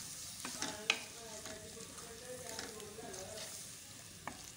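Peas frying gently in a pan for aloo matar moongre sabji, giving a soft steady sizzle with a few faint clinks of stirring, quiet and close.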